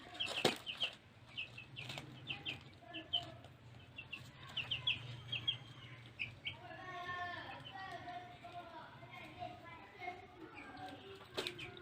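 Ten-day-old broiler chickens cluck and chirp throughout, with a low hum and occasional clatter in the background of a busy indoor space.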